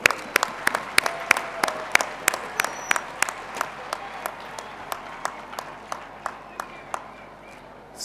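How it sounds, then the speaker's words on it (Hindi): An audience claps in applause to greet Swami Dharmabandhu at a gathering, sharp hand claps ringing out steadily and thinning toward the end, heard alone without voices. "मैं सबको रिक्वेस्ट करूँगा कि हम तालियों से स्वामी धर्मबंधु जी का अभिवादन करते हैं"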